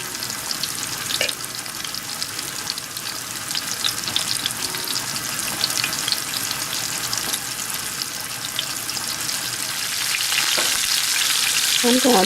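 Oxtails browning in a skillet make a steady, close sizzle and crackle that runs unbroken throughout, swelling slightly louder near the end, with a faint stir or two of the meat.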